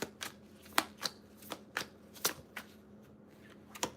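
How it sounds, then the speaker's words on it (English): Tarot cards being shuffled and pulled, a series of close, crisp papery flicks and slaps in an uneven rhythm, about a dozen sharp strokes, alone in a quiet room. "let me pull a timing card"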